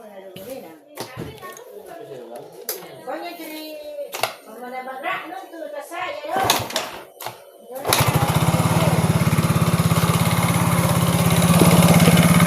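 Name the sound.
motorcycle engine starting and running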